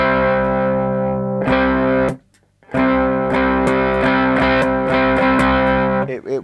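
Cigar box guitar through a single-channel tube amp with a foot-switchable boost driving high gain, dense distorted chords strummed loudly, broken by one brief pause before the heavy crunch returns.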